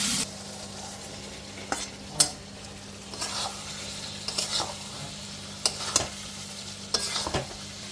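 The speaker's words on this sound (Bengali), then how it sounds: "সাদা তেলের সাথে একটু ঘি দিলাম, আদা বাটা" Ginger paste frying in white oil with a little ghee gives a steady close sizzle, broken by intermittent scraping stirs and soft clinks of a utensil against the pan.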